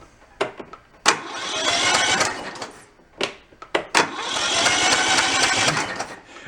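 Riding mower engine with a blown-apart motor cranking over in two long loud bursts, each starting with sharp clicks and grinding on for about two seconds before cutting off, close by and with no talk.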